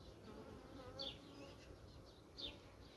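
Faint, steady buzzing of many honeybees at an open hive, a soft insect drone with a couple of brief louder passes close by.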